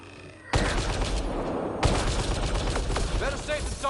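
Sudden loud volleys of gunfire from the video game Mass Effect: Andromeda, bursting in after a quiet start and continuing in dense, rapid shots with a second heavy blast midway and faint voices underneath.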